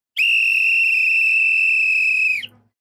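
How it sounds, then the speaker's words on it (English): A referee's whistle blown by a commentator during live reactions to a Portugal vs Uzbekistan World Cup group match: one long, steady, piercing blast of about two seconds, loud and close, with nothing else behind it. "Where's my whistle?"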